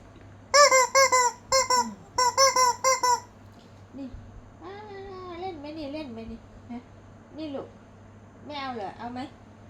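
Bursts of high squeaking from a rubber chicken toy come in quick rhythmic groups, followed by softer squeaks and whimpering sounds; a voice talks faintly underneath.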